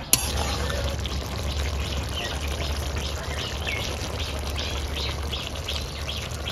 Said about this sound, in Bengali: চালের গুঁড়ো গুলিয়ে রেখেছিলাম, সেটা এবার ঝোলে দিয়ে দেব